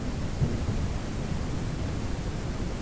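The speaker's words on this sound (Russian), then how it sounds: "Дождь." Steady rain with thunder in the ranch-building game Ranch Simulator, a continuous broadband hiss with a low rumbling swell early on, heard alone.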